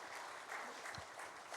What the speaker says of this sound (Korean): 우리 청년들 우리 박수로 한번 격려하겠습니다.